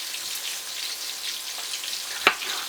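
Vegetables sizzling in a pan, a steady bright frying hiss with crackles, and one sharp clink partway through.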